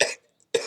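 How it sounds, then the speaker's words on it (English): A person gives a quick double cough. The two short, harsh bursts come close together, with a brief silence between them. "Now, I have a little cough,"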